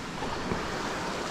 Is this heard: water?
yes